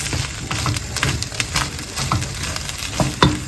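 Egg fried rice sizzles in a hot pan as a utensil stirs and scrapes through it, irregular clacks and scrapes over a continuous close frying hiss, with one louder knock near the end and no speech.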